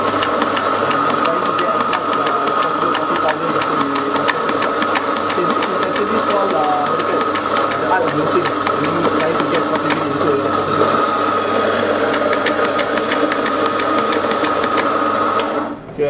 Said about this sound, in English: in this movement, we're actually grinding the coffee beans